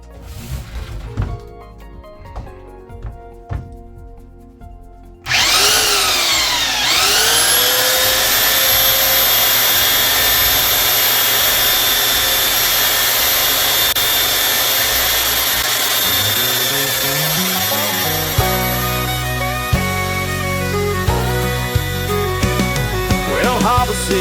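A power tool sands and shapes a piece in a workshop. After several seconds of scattered knocks and clatter, a loud, continuous high-pitched whine starts and runs steadily for the rest of the clip, with occasional thumps.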